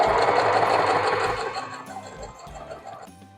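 Sewing machine stitching cotton fabric, a loud fast rattling whir that runs steadily then slows and fades toward the end, close up and alone.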